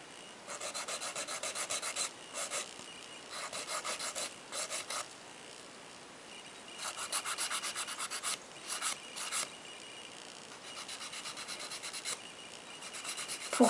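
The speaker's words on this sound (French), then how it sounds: "Et moi je lime comme ça." A nail file rasps across a gel fingernail in short bursts of back-and-forth strokes separated by brief pauses, close and fairly quiet, with no voice.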